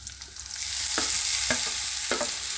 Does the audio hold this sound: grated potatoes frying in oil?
yes